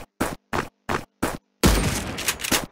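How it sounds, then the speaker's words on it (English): Gunfire in the online shooter Build Royale.io: four short, evenly spaced single shots, then a longer loud burst of rapid overlapping fire, all close and with no talk over it. "I'm just shooting random bullets everywhere because I want to."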